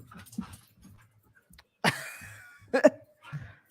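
Dogs scuffle and fight indoors after running up the stairs, giving a few short, sharp thumps and bursts of noise over quiet background murmurs.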